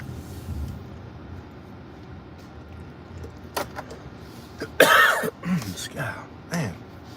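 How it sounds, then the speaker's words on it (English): A man coughs and clears his throat in a short burst of harsh, close coughs near the end of a quiet stretch, with faint background noise. "you get something stuck in your throat there and just keep making you cough"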